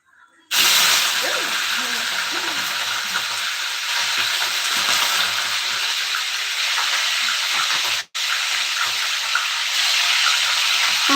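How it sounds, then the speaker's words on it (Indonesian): Chicken pieces frying in hot oil for Indonesian soto ayam give off a loud, continuous sizzle and crackle that runs unbroken after a quiet start, cut by one brief dropout near the end. "kita goreng dulu aja"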